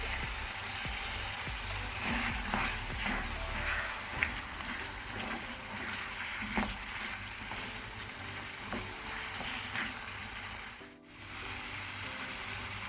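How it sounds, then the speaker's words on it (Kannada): Mutton pieces fry in a pan over a medium-high flame, giving a steady close sizzle with scraping and clinking as the meat is stirred continuously, broken by a brief dip near the end. "ಮೀಡಿಯಮ್ ಟು ಹೈ ಫ್ಲೇಮಲ್ಲಿ ಇದನ್ನು ಫ್ರೈ ಮಾಡ್ಕೊಳ್ಳೋಣ. ಕಂಟಿನ್ಯೂಸ್ ಮಿಕ್ಸ್ ಮಾಡ್ತಾ ಫ್ರೈ ಮಾಡ್ಕೊಳ್ಳುವ."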